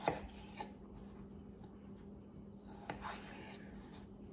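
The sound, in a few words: knife cutting peeled potatoes into chunks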